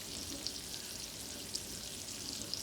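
Chicken pieces searing in a hot pan give off a steady broadband sizzle and frying hiss throughout, with a few small pops rising above it and no one speaking.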